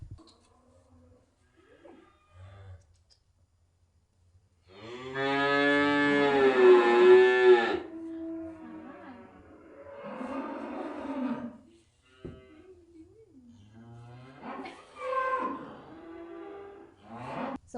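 Dairy cows on a farm with a herd of Holstein and Jersey breeds, one long loud close moo followed by shorter, fainter lowing calls with quiet gaps.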